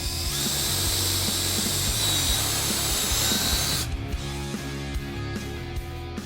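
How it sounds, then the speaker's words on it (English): A power drill bores a 5/32 hole to mount a Flex-A-Lite fan speed control module onto an electric fan in a Ford F-150, with a loud, steady whine that drops to a lower hum near the end and no talk. "Drill 5/32 hole right there and right there to secure this to the fan."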